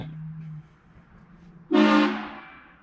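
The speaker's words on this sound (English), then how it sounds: "whoever honked that air horn at me" A sudden, loud blast of an air horn sounds after a brief low hum, then fades out.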